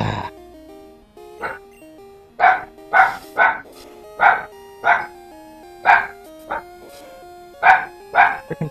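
Puppies bark in a series of short, sharp yaps, about a dozen in eight seconds, close and fairly loud over a steady electronic game melody.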